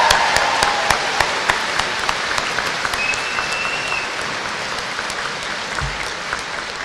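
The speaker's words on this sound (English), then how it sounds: "Please join me again in congratulating them with a round of applause." A graduation convocation audience at Lakeland College applauds the graduating class, with dense sustained clapping from a large crowd that slowly tapers off.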